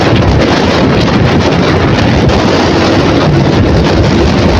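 Heavy wind roar buffets the microphone while riding a Yamaha YTX125 motorcycle along a road toward San Narciso, Quezon, a loud, constant rushing blast that drowns out any engine detail.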